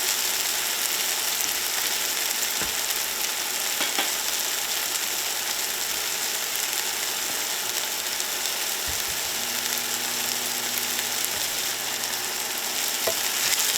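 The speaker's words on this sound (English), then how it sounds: "So we have our vegetables cooking down." Vegetables cooking down in hot ghee in a pan, giving a steady sizzle and crackle throughout, with a few faint clicks and scrapes and no talking.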